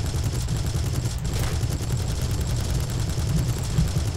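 Sustained gunfire from War Thunder, a tank combat game, with dense rapid automatic bursts over a constant low rumble, loud and continuous throughout.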